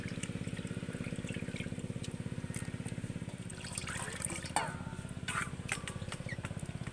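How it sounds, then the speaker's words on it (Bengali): Flour dough is washed by hand in a bowl of water, making soft continuous sloshing and trickling with a few sharper splashes partway through, close and fairly quiet. "এইভাবে আস্তে আস্তে হাত দিয়ে দিয়ে ধুয়ে নেব"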